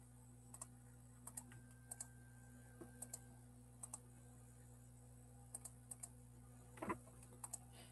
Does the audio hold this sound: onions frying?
no